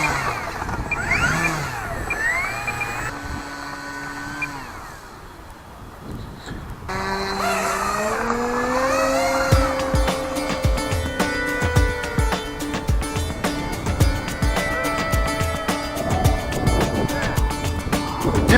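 An E-flite Cessna 150 RC model plane flies outdoors. Its motor whine sweeps up and down in pitch, drops away briefly, then returns as a steadier buzzing drone with rapid clicking and wind noise.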